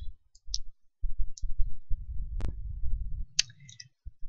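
Sharp, dry clicks of a computer mouse, a few separate taps over a quiet, low background hum.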